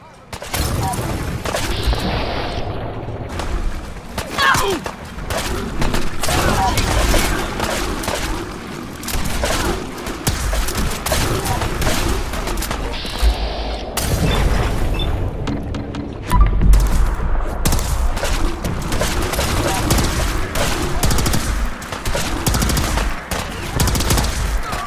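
Sustained battle gunfire from Fallout 4: Far Harbor, with dense fusillades, machine-gun bursts and occasional booms rolling loudly throughout, mixed with shouted voices and game sounds.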